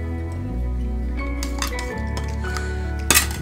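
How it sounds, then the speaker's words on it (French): A spoon clinks and scrapes around a cup as a teaspoon of powder is stirred into hot water, a few light metallic taps over a steady low hum, ending in a brighter rattle. "On remue."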